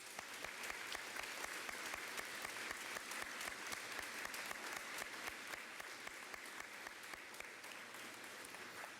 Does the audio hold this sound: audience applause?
yes